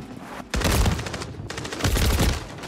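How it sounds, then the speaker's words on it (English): Loud, close bursts of automatic gunfire in Call of Duty: Warzone, two rapid volleys of dense shots separated by a short pause. "I'm taking effective fire."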